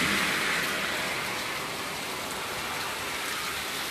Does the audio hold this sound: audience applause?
no